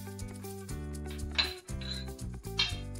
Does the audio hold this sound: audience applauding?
no